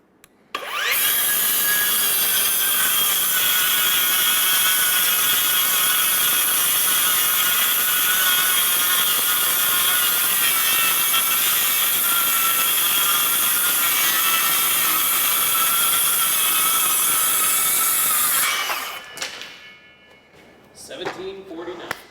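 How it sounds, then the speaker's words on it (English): A Ryobi cordless power saw rips through wood in one long continuous cut of nearly twenty seconds, loud and close, its motor holding a steady pitch under the rasp of the blade before stopping and leaving faint handling noises. "that time I did push the saw just a touch faster, but again, it maintained RPMs well"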